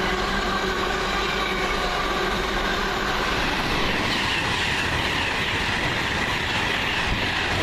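Train 1M11 from Glasgow Central to London Euston passing at Cheddington, a loud steady roar of wheels and rushing air, close by and unbroken, with no talking.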